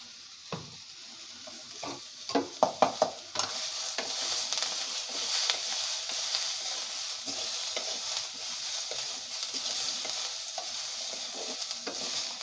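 Curry leaves, black pepper, cumin and coriander seeds for country chicken soup hit hot oil. A few sharp crackles and spatula knocks come first, then a steady, close sizzle holds to the end.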